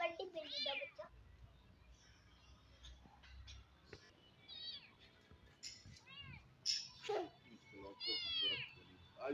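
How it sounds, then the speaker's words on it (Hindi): A kitten gives a string of high, wavering meows, close and clear. Some are drawn out and some are short, with quiet gaps and faint background rustle between them. "ये बराबर मियाँ ऐ बिल्ली का बच्चा बड़ी बिल्ली का बच्चा"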